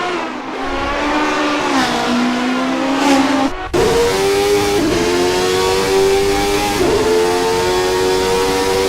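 A 1991-season Formula 1 car engine screams at high revs on a flying qualifying lap at Mexico in a video game, loud and steady with pitch dropping at upshifts and climbing again, no talking heard.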